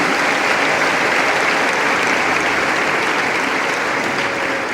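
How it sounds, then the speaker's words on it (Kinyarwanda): A church congregation breaks into loud, sustained applause, a dense, even wash of many hands clapping that holds steady for several seconds. "Dukomere amashyi menshi Imana mu mwanya nk'uyu."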